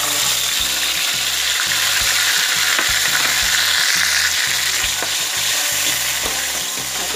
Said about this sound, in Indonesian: Lalu kita masukkan bumbu ya.